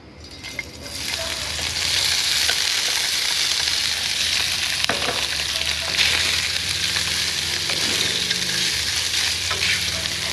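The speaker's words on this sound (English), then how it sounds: "You're going to dump the whole thing in your wok, and you're going to stir fry this for about 3 to 5 minutes." Pork for fried rice is stir-fried in a wok with a loud, dense, continuous sizzle and crackle that rises sharply after a brief quieter start, with a few utensil knocks and no voices.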